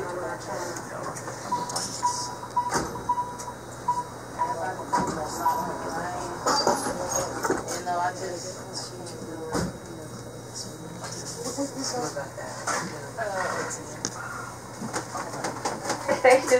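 A MARTA train carries riders toward the airport station, its rail rumble and rhythmic clacking running steadily throughout, with a brief tonal announcement-like hum early on and a voice speaking over the ride.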